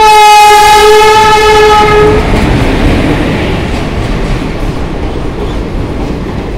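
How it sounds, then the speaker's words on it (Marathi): A train at a railway station on the way from Parbhani to Purna, its horn sounding loudly for the first two seconds before giving way to steady rumbling and rolling rail noise that slowly fades. "आपली जगह बघ म्हणजे तर समोरून ट्रेन वगैरे आलेली।"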